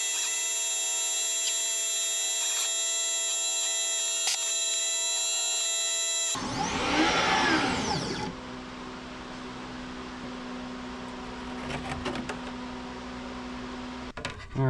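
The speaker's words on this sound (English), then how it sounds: "I'm gonna increase the intensity of the laser and slow down" A laser cutter makes a slower, higher-intensity pass over a G10 sheet: a steady mechanical whine and hum with tonal overtones, then a brief surge of broadband noise, then a lower, continuous machine drone. No one talks.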